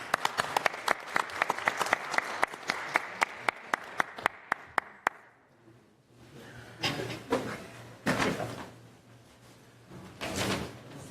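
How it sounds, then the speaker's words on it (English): Applause for an honoree at a city council meeting: a short run of loud, spaced individual claps for about five seconds, then a pause and several bursts of broader, more scattered clapping across the room. "So a round of applause for Greg"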